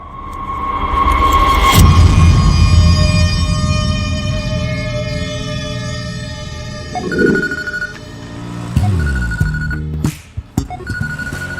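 A phone rings with an incoming call, a loud electronic tonal ring that swells early, holds for several seconds, then breaks into shorter repeated tones with some clunks and background rumble.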